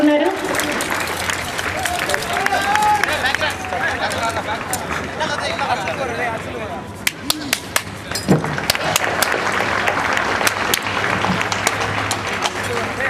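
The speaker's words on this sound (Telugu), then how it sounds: "మరి నవ్వుతూ కూడా మనం చప్పట్లు చేయవచ్చండి." An audience at a passing-out training event claps for several seconds in a dense, steady burst with scattered sharper claps, while crowd chatter and a voice run underneath.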